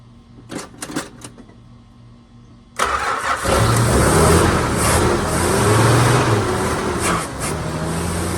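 A 1980 Chrysler Cordoba's cold slant six cranks with a few short whirring bursts, then catches and runs loudly and steadily close by with uneven revving.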